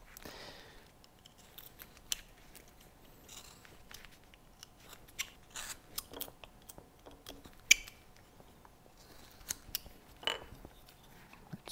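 A carving knife draws pulling cuts toward the carver through wood while carving braided hair, giving soft, faint scraping slices and sharp little snaps spaced irregularly over a quiet background.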